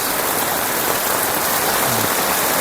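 Heavy rain pours down in a flood-prone village in Lambheu, a loud, dense, unbroken hiss of drops hammering surfaces close by, with no voices.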